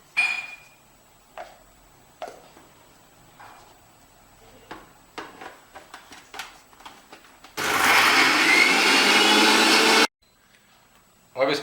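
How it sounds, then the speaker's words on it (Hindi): A mixer grinder whirs loudly for a few seconds, grinding garlic and green chillies for a green fish fry masala, preceded by scattered clicks and taps of handling and followed by a sudden stop. "और लहसुन है ये, जैसा मैंने आपको बताया था कि इन्हें ग्राइंड कर लेंगे।"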